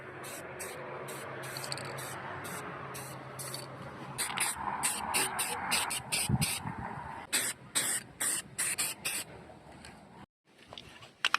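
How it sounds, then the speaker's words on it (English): Ace spray paint primer hisses onto a homemade bicycle frame built from an exhaust pipe, first as a long, soft spray, then as a string of short, close, choppy bursts with brief pauses between them. "And as always, I'm using the Ace spray paint."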